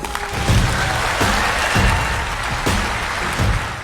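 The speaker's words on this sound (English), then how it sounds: "Huge applause to Dr. Robert Malone." An audience applauds for a doctor at a gathering of professionals, loud sustained clapping from many hands that swells in waves through the clip.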